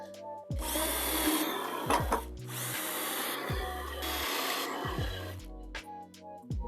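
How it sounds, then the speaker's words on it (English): A power drill drives screws into wood while a small step stool is assembled, several whirring bursts rising and stopping in pitch with short pauses between, loud and close, with no speech. "To screw this together."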